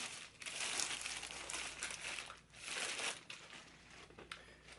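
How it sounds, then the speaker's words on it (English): Plastic packaging around a Sideshow Ghostface 1/6 scale figure crinkles and crackles in continuous waves, close and fairly loud, with brief pauses between handling bursts. "And here it is, inside of plastic packaging."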